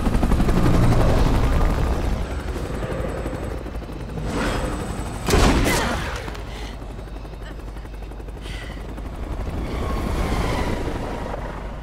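Helicopter rotor drone with sniper gunfire in the video game Resident Evil 6, a loud continuous mechanical roar throughout with a sharp burst of shots near the middle.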